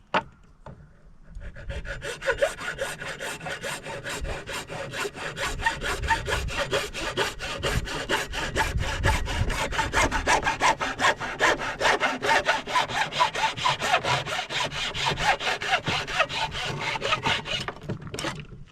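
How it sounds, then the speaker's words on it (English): A hacksaw cuts a stopper for a gravity-fed deer tube feeder in steady, close back-and-forth strokes that run continuously for most of the clip, with no talking. "And I like using a hacksaw. It cuts a smoother cut."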